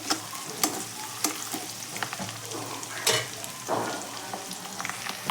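Onion and garlic frying for homemade pav bhaji, a constant sizzle broken by spoon clanks and stirring scrapes against the pan, close and fairly soft, with no speech.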